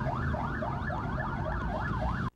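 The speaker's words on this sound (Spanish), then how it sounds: "Los policías motorizados iban despejando el área con sirena abierta" Police motorcycle sirens wail while clearing the road for a motorcade, a loud, steady rising-and-falling electronic siren that holds for about two seconds before stopping suddenly.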